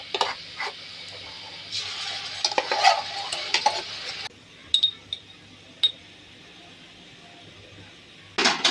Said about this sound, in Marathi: आता आपण जे वाटण तयार केलेलं आहे ते ह्यात घालू.